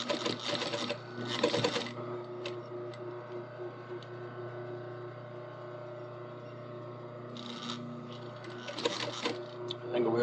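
A sewing machine stitches fabric in two short rapid bursts, one at the start and one near the end, with a quiet steady hum in between.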